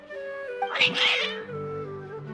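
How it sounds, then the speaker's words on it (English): Cats in a video game let out a strained, agitated meow that swells and fades, heard over a steady background music drone. "Your cats seem pretty worked up."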